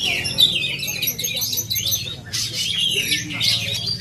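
An Acehnese oriental magpie-robin (kacer) sings loudly and close, a continuous run of bright, rapid chirps and whistled phrases with a brief pause midway, over a low background hum.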